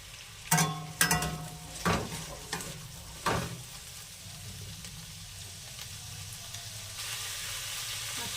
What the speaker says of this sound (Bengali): সবজিগুলো দিয়ে দিয়েছি, নেড়ে নেব।